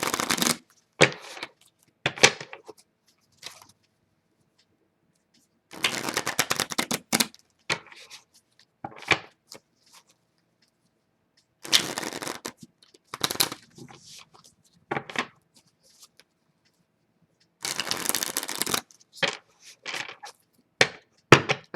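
Oracle cards being shuffled by hand in repeated bursts, crisp riffling and slapping against quiet pauses, close and fairly loud with no talk.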